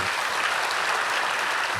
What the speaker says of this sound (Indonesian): Kasih tepuk tangan bagi Tuhan Yesus aja.